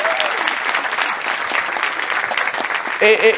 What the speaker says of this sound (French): Justement, ça mérite un applaudissement, les gars.